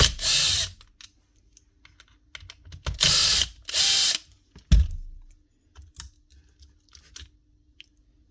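Screws are driven out of a Makita DUH453 cordless hedge trimmer body with a power driver, heard as four loud whirring bursts, close by, separated by quieter clicks and handling taps.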